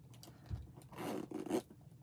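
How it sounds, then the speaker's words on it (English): A tight zipper on a bag pocket is pulled open, a soft tug followed by a longer rasping zip, close and quiet. "Oh man, these zippers are tight"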